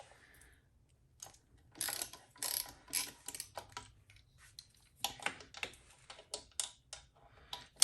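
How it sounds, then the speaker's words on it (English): A 5mm Allen wrench working the two bolts on the sprocket cover of a Honda Monkey motorcycle, giving close, irregular metallic clicks and ratchety scrapes in bursts with short pauses, and no talking. "It's just going to be 2 Allen bolts. Just loosen them up, and then you can just spin them off with your fingers."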